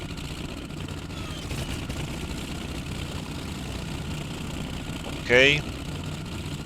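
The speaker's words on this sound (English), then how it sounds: "I like to start the engine from outside" The engine of a Bf-109F fighter in the IL2 Sturmovik flight game idles with a steady, mid-loud rumble, and someone briefly speaks over it near the end.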